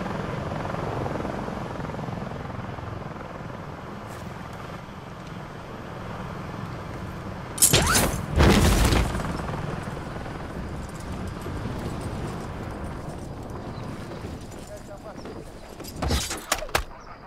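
Helicopters thrum in a Call of Duty: Modern Warfare III mission near a reactor, a low steady rotor rumble throughout with two louder bursts of nearby activity; voices talk over it.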